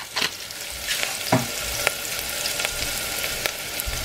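Cauliflower rice with onions fries in a pan, giving a steady broadband sizzle with occasional stirring scrapes and clicks, close and alone with no talk.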